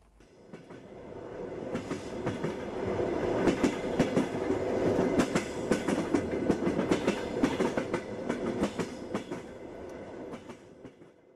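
A train rolls along the rails with a rhythmic clickety-clack of wheels over joints, building then easing, heard from inside or near the carriages.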